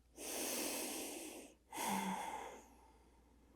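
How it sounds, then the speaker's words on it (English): A slow, deep breath taken during a gentle morning yoga class: a long, airy inhale and then a long exhale, close to the mic and breathy, with no talking. "One deep breath here."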